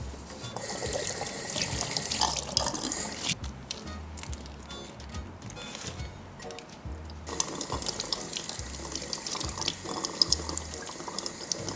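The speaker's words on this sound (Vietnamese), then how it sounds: "Trứng muối mà sau khi các bạn sơ chế và rửa dưới vòi nước lạnh xong" Cold tap water runs steadily over salted egg yolks being rinsed clean in a sink, a continuous splashing stream that briefly quiets midway before resuming, close and fairly loud with no talk.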